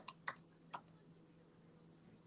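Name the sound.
typing on a computer keyboard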